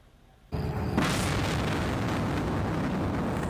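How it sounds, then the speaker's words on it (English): A sudden loud blast in Gaza followed by a sustained, roaring rumble that fills the whole clip, like a heavy explosion with no talking. "New explosions in Gaza this evening."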